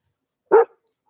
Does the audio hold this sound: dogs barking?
yes